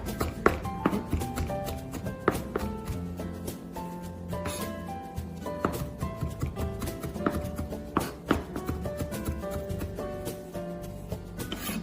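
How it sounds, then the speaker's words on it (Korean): A knife chops green onion stalks finely on a cutting board, a quick, irregular run of close, crisp taps that continues steadily throughout. "줄거리도 마찬가지로 잘게 썰어주시고 마지막에 한 번 더 다지는 작업을 할게요"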